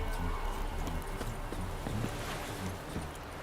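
Horse hooves clip-clopping at a steady galloping rhythm in the open-world video game The Witcher 3: Wild Hunt, close and continuous over a background wash of ambient game noise.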